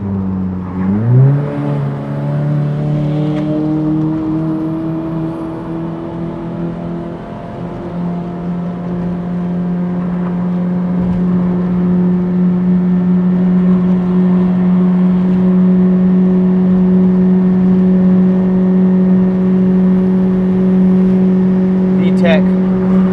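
A modified Honda Jazz with a custom exhaust revs up, then settles into a steady, loud, droning engine note that holds for over twenty seconds, with a faint voice underneath.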